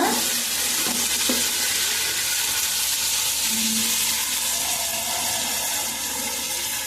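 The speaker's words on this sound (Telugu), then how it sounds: "ఇప్పుడైతే వాటర్ పోస్తున్నాను ఇటువంటి గిన్నెతో అయితే మూడు గిన్నెలు అయితే నీళ్ళు పోస్తాను అనమాట" Water poured into a hot pan on the stove mid-cooking gives a steady broadband hiss and sizzle, continuous and fairly close, with a few brief clinks near the start and no voices.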